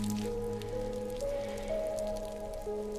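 Timefall rain in the video game Death Stranding patters steadily and softly on surfaces, a continuous wet drizzle heard close alongside faint tonal game music.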